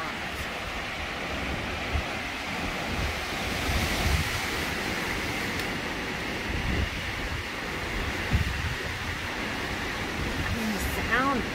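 Strong wind blowing outdoors in front of a house, a steady loud broadband roar with gusty swells throughout, no voices evident.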